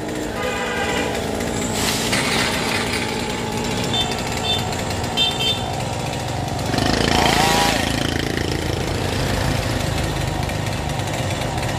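A loud chainsaw drones steadily, its engine pitch rising as it bites into a Taiwanese almond tree beside three-phase power lines, while passing traffic rumbles in the background.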